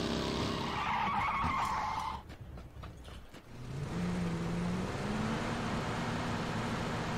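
A car in PlayerUnknown's Battlegrounds drives at speed with a loud engine roar, then skids with a long tire screech before the engine picks up and revs on steadily.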